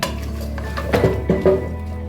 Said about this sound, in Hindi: 2 से 3 मिनट तक के लिए हम इसको फ्राई करेंगे।